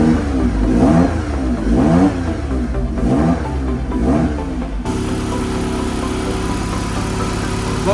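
Ford Sierra Sapphire RS Cosworth engine revived after sitting abandoned, blipped through several rising and falling revs up close, then dropping to a steady rough idle.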